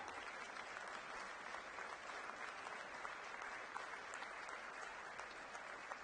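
An audience at a Delhi public event with Chief Minister Rekha Gupta applauds continuously, the clapping dense and uniform throughout, heard from some distance with faint crowd murmur beneath.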